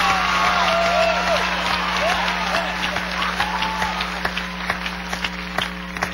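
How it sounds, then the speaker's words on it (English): A television studio audience applauds, dense clapping mixed with voices and shouts, tapering into scattered individual claps. "Let's give that applause, however, for someone who deserves it, like Phyllis Diller, right over there."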